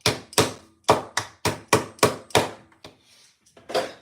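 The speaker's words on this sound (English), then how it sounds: "And I have to hammer it" A hammer strikes a small metal washer into place during a sewing project, giving nine sharp, evenly spaced taps, loud and close, with a brief pause before the final blow.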